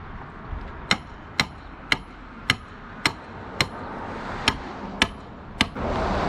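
A hammer drives a wooden stake for a concrete sidewalk form, striking about ten times in a steady, loud, evenly spaced rhythm over a constant outdoor background hiss that swells slightly toward the end.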